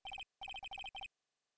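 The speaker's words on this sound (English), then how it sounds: "Hey, Nick, your cell phone's ringing!" A cell phone ringtone in the Ace Attorney: Trials and Tribulations video game, a string of quick, high electronic beeps in rapid bursts with short gaps, clean and alone.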